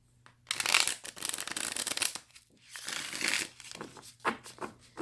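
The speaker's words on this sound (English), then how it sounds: "Let's see how it shuffles." A travel-size tarot deck is riffled and shuffled close by in several quick bursts, crisp card flutters separated by brief pauses and ending in short taps.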